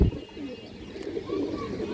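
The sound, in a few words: khora gola male pigeon cooing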